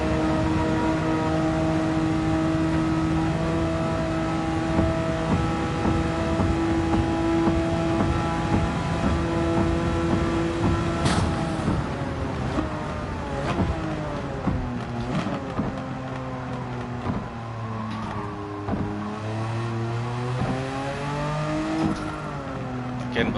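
Porsche 959 engine in Gran Turismo 7 racing at Tokyo, sustained high revs that rise and fall through gear shifts and braking over a steady game engine drone, with someone talking over it.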